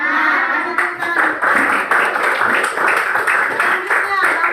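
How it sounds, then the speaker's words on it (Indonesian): A classroom of students claps for a classmate during a geometry lesson, brisk uneven clapping from a small group close by, with voices of children chattering over it. "kasih tepuk tangan."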